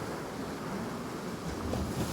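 Stormy North Sea surf at Hopton on Sea beach near Great Yarmouth, a steady roar of big breaking waves with gusty wind buffeting the microphone, continuous and fairly near.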